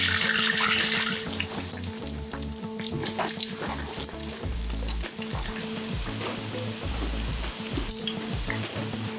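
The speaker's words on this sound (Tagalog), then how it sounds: "fry the pork belly and cook until golden brown and crispy" Pork belly fries in a wok of hot cooking oil, a dense steady sizzle and crackle with bubbling spurts and occasional clanks, close and loud with no voices.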